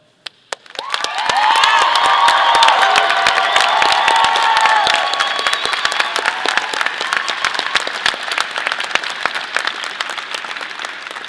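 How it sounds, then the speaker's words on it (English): At a College of Agricultural Sciences commencement, a large audience breaks into sustained applause and cheering, dense clapping swelling quickly and then slowly thinning, with scattered shouts in a big reverberant arena. "And now through your applause down here and your cheering and raising the Moby roof,"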